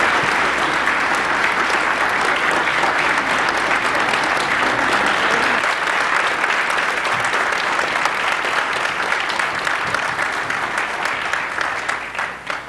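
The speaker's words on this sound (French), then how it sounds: "Applaudissons tout de suite" Sustained audience applause at a televised French-language tribute to a newly elected Académie française member, a dense, even wall of clapping from a large crowd that holds steady for about twelve seconds before tapering slightly at the end.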